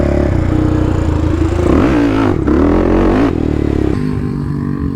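A Predator 500 quad ATV is ridden nearby, its engine droning loud and steady, then revving with rising and falling pitch before settling back down. Clattering can be heard, and no one speaks.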